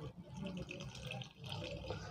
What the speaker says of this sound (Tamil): கொஞ்சம் கொஞ்சமாக தண்ணி விட்டு இந்த மாவை மிக்ஸ் பண்ணுவோம்.